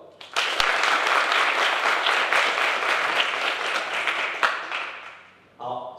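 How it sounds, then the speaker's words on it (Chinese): Warm, sustained audience applause welcomes a visiting professor to a university lecture hall, a dense burst of clapping that rises quickly, holds for several seconds and fades, followed by a brief voice at the end. "我们现在就用热烈掌声欢迎于克伟于教授。"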